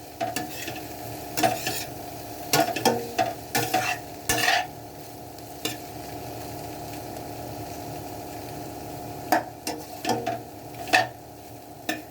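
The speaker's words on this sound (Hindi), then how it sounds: "अभी अच्छे से पकना और शुरू हो गया है और थोड़ा ये गोभी भुन भी गई है" Cauliflower sabzi (gobhi) roasting in a pan, with a steady low sizzle and bursts of spatula scraping and stirring scattered through, loud near clatter then quieter stretches of frying alone.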